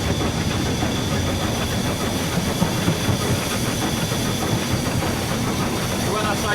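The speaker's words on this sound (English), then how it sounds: "This regulator controls the steam from the boiler to the cylinders." Steam locomotive with its regulator opened, sending boiler steam to the cylinders: a steady, loud hiss and rumble of steam and running gear fills the whole stretch without a break.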